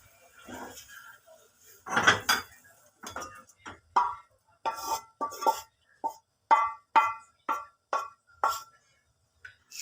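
Chicken adobo pieces and sauce are spooned from a pan into a bowl, a close series of about a dozen short clinks and wet plops of utensil on dishware, spaced by brief pauses.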